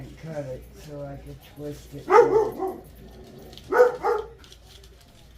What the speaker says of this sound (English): I am sorry for the dogs barking.